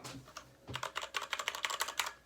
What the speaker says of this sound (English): It's a mechanical keyboard. It's got cherry switches.